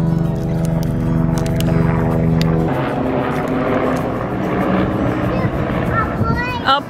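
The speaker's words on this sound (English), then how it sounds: "A plane!" A propeller plane drones overhead with a steady, rumbling engine hum while people talk nearby.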